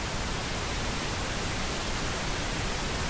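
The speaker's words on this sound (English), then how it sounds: "Pink noise is pretty good." Steady pink noise generated by an Audio Helm synthesizer, a dense, even hiss weighted toward the lows, constant in level and running unbroken on its own throughout.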